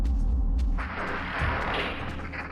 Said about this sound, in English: I believe that was my damage field going down.